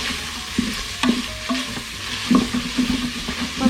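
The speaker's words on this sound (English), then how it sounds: "Stir that around a bit" Food being stirred in an Instant Pot while rigatoni sauce ingredients sizzle, with light scraping and knocking strokes over a soft frying hiss, close and without speech.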